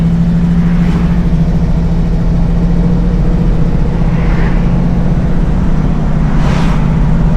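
A 1969 Oldsmobile 442 engine drones loudly and steadily from close by on a test drive. The low rumble swells slightly a few times.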